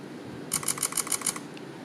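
A Leica Q Typ 116 full-frame compact camera fires a rapid burst of about six crisp shutter clicks in continuous mode, evenly spaced and close, over a low steady background hiss.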